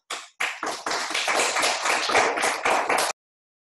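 Brief applause from an audience after a welcome introduction, a quick run of crisp claps lasting about three seconds before stopping abruptly.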